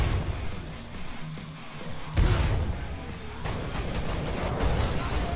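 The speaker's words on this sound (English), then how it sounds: "let me throw a grenade" A grenade blast in the zombie shooter Killing Floor 2 lands as a sudden loud boom partway through, after a stretch of dense game noise and gunfire, with the rumbling din continuing afterward.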